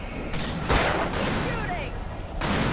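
Gunfire in Alan Wake Remastered, a loud rolling barrage of shots and booms mixed with game sounds, with a voice talking over part of it.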